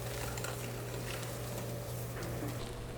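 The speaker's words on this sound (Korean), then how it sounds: "첫 번째 머랭을 넣고 휘퍼를 이용해서 잘 섞어주세요." A whisk works meringue into red velvet cake batter in a bowl, giving a steady, soft continuous scraping and swishing that stays even for a few seconds over a low hum, with no voices.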